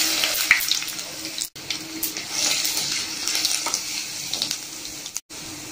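Curry leaves and crushed garlic sizzle steadily in hot coconut oil over mustard seeds and urad dal for a Tamil dry fish kootu, a continuous hissing fry with two brief cutouts.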